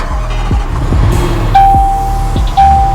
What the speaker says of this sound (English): You also see your big start engine button right here. So I'm going to show you what that sounds like right now.